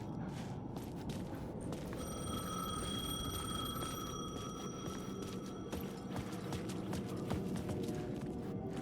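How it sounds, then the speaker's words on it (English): A payphone rings in the video game Alan Wake II, a sustained tonal ring rising over a dense, noisy ambient background with scattered clicks and clatter, moderately quiet and with no speech. "The payphone was ringing."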